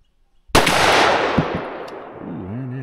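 A single sharp .357 Magnum revolver shot cracks close and loud, then rings out in a long decaying echo across the range.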